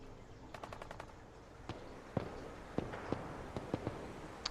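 An unfamiliar gun in Fallout 4 lets off a rapid burst of sharp shots, followed by several spaced single cracks over a low game background.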